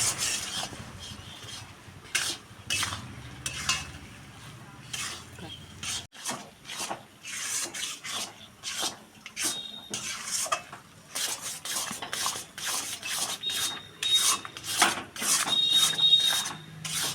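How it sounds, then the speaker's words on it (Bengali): A spatula scrapes and stirs a thick, sticky mixture of flour and a little sugar in a pan, giving repeated rough rasping strokes with metallic clinks, close and fairly loud, with no talking. "এই সময় একটু সময় ধরে মেশাতে হবে, এত আঠা খুন্তিই নাড়াতে পারছি না"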